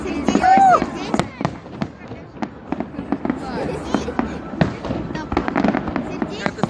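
A long salute-style fireworks display of repeated bangs and crackling bursts, one rising whistle near the start, with a crowd's voices talking throughout.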